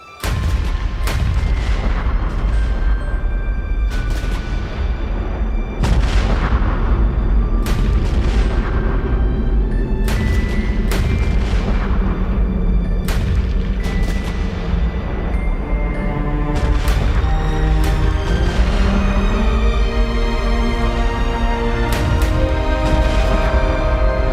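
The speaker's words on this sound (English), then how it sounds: "As twilight fell, the bombardment began." A naval bombardment of Fort McHenry: heavy artillery booms and blasts repeat in a rapid, overlapping barrage, loud and continuous, with deep rumbling between the sharp reports.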